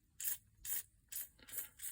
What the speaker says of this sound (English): I'm going to spray a little onto the small circuit board that is over there